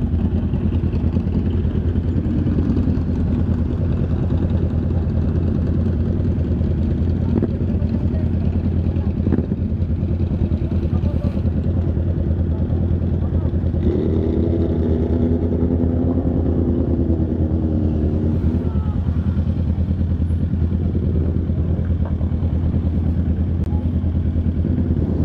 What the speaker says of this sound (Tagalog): Puro big bikes ah.